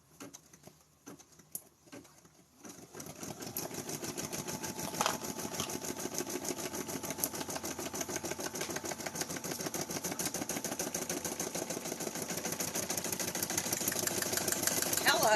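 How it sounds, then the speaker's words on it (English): After a few quiet clicks and taps, an embroidery machine starts running a placement stitch on stabilizer, its needle hammering in a rapid, even rhythm that grows slightly louder and holds steady close by. "we run our placement stitch just right on top of our stabilizer"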